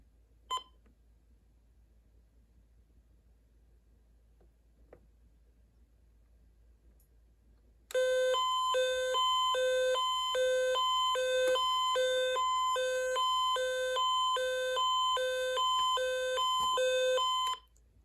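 A Midland STR-180 weather radio sounds its alert, a loud, rapid, pulsing electronic tone that repeats steadily for about ten seconds after near silence broken by a faint click.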